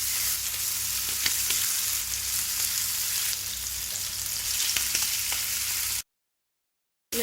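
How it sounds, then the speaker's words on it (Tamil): Chicken pieces fry in a small amount of oil, a steady close hiss and crackle with faint stirring clicks, continuous for several seconds before cutting to silence. "சிக்கனை சுட்டு எடுத்துக்கலாம்."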